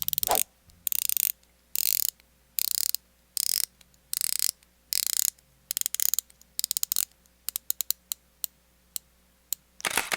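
An aluminum-insert 120-click watch bezel being turned, giving bursts of fast, close ratcheting clicks in regular strokes, then slower single clicks toward the end.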